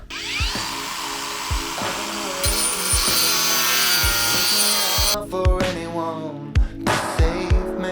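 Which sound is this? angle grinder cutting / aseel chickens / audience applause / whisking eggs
angle grinder cutting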